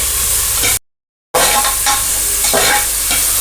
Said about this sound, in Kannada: ಹಾಕೊಂಡು ಫ್ರೈ ಆಗಲಿ ಒಂಚೂರು ಈರುಳ್ಳಿ